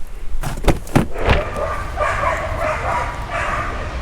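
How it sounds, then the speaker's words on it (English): Several dogs bark and yip in the distance across a river, a burst of barks followed by fainter whining yelps, with outdoor background noise. "Some annoying dogs over there."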